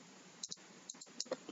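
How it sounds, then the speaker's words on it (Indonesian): Computer keys are pressed on a keyboard, a handful of faint, sharp clicks spread irregularly through a quiet moment. "Lalu saya enter."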